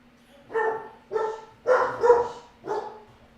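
A puppy barks indoors, five separate yappy barks spaced roughly half a second to a second apart, fairly loud and close over a faint steady hum.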